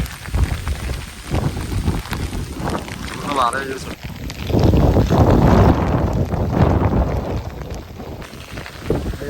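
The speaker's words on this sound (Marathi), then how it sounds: "पाऊस बघा केवढा पडतो बघा" Heavy rain pours onto a field being ploughed, a dense, loud patter with gusty wind buffeting the microphone and growing stronger midway, while people talk over it.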